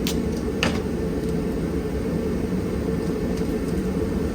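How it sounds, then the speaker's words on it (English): An orbital sander works over a car's valve cover, a constant close whirring drone with a gritty hiss, running evenly without letting up. "So I can hit it with the machine, the orbital sander."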